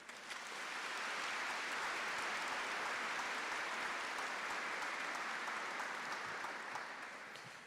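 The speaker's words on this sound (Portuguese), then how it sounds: "Vamos aplaudir a palavra do Senhor." A church congregation applauds steadily for nearly eight seconds, a dense, even wash of clapping that swells in quickly and holds at full strength before easing slightly at the end, with no voices over it.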